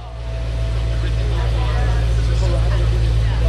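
A 2013 BMW M3 engine idles steadily just after startup with a deep, even low rumble that swells slightly toward the end; people talk nearby.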